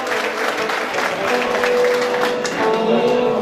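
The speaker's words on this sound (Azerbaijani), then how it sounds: "şairləri ürəkdən alqışlayaq, yaxşı-yaxşı" Wedding-party crowd applauding the poets at a meykhana performance, a thick, continuous wash of clapping from many guests with faint voices and a sustained tone underneath.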